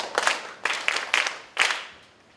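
Children clap for themselves at a book reading event, a few loose bursts of clapping that rise and fade over about two seconds, fairly close and unaccompanied by talk.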